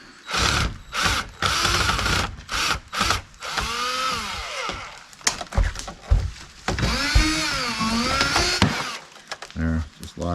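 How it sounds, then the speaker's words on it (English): Power drill backing screws out of wood at an off-grid cabin during winter prep cleanup, with repeated short whirring bursts between pauses, close and fairly loud, with someone talking over parts of it. "Pull these screws out of here."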